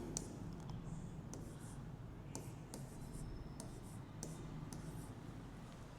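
Marker or chalk writing on a board in a reasoning class, heard as short scratchy strokes and taps repeating through the clip over a steady room hum, fairly close and moderately loud.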